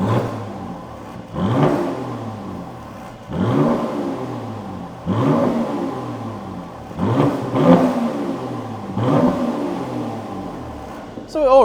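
A Mercedes C43 revs repeatedly in neutral with its exhaust valves open, about six loud, close rising-and-falling engine pulls in steady succession.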